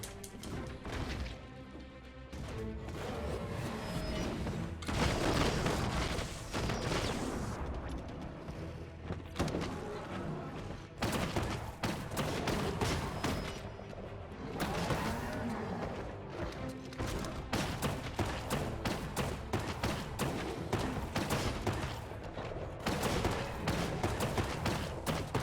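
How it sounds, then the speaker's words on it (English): Rifle fire in the Biomutant video game during a boss fight, repeated sharp shots and impacts over loud combat music and effects, steady and dense throughout. "At least my rifle's doing some work."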